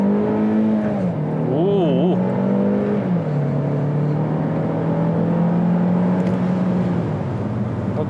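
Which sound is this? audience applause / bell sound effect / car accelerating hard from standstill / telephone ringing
car accelerating hard from standstill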